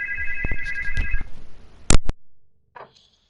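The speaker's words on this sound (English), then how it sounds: "Am I getting a phone call?" An incoming call sets a phone ringtone going, a bright repeating electronic melody that plays for over a second. Several sharp clicks and taps follow, then a brief faint tone near the end. No one speaks.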